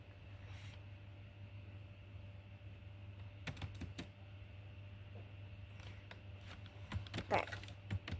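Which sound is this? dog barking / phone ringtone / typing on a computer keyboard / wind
typing on a computer keyboard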